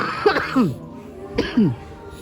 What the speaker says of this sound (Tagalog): Akong background ubo.